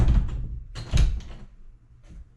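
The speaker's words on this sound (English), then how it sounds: "the door opens and latches correctly" A door on a newly replaced hinge opens and clicks shut: a muffled thump and rattle, then a sharper latching knock about a second later and a faint tap after that, close by and with no voices.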